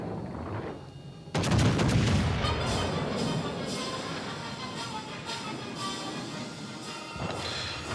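Heavy naval gunfire from a warship's A and B turrets in World of Warships: Legends, a sudden loud booming salvo followed by a dense rolling series of blasts and rumbling thuds, with no speech.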